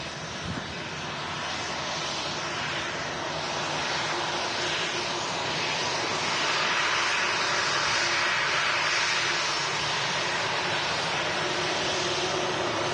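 A jet airliner at Manchester Airport roars steadily and loudly, its broadband engine noise swelling slightly as it moves, with no voices over it.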